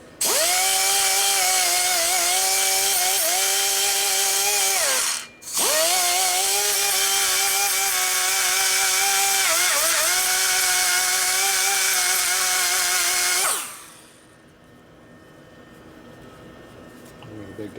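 A power tool grinds into the bowl of a new Harley 110ci S.E. cylinder head, a loud, steady high-pitched whine with a brief drop around five seconds, before cutting off and leaving quiet shop noise.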